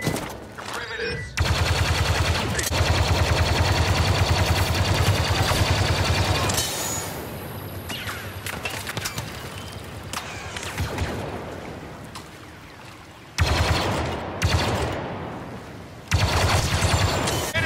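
Sustained blasts of blaster and weapon fire in Star Wars Battlefront 2 during an Ewok hunt, loud and dense with brief pauses between volleys, with faint voices in the background.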